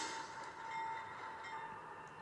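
A train runs along mountain rails, a faint, steady rumbling roll with a sustained metallic whine, continuous and without voices.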